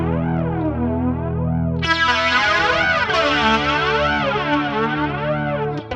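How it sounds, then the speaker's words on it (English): An electric guitar plays through chorus and flanger pedals on a pedalboard, giving loud, sustained notes with sweeping, swirling, whooshing tones. A brighter, heavier passage starts partway through, and no one speaks. "That's just the chorus and the flanger."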